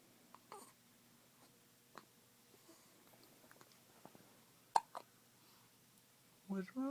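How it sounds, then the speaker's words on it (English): A small child hiccups: several short, sharp, clicky catches spaced irregularly across quiet room tone, ending with a brief vocal sound from the child. "you got the hiccups?"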